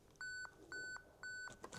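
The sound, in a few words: camera self-timer beeping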